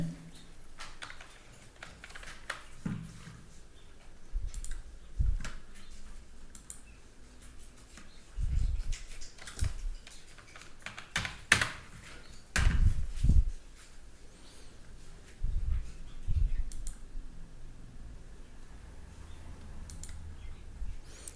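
Scattered keyboard and mouse clicks while typing a search for a number icon on a computer, quiet and close, arriving in short irregular bursts with pauses between.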